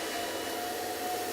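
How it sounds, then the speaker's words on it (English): Steady whooshing airflow of a blow dryer held close over a brush while drying and styling short hair, continuous and even with a faint whine, no talking. "Keeping that blow dryer on top of your brush, quite close to the hair"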